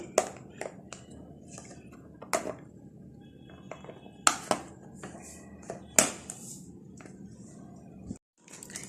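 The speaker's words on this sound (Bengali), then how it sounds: "এখন আমি এই বাটিগুলোর ঢাকনা ঢেকে নিব।" Lids being pressed onto small storage bowls during Ramadan food preparation, giving several sharp plastic clicks and light clinks scattered over a few seconds, with a voice talking quietly in between.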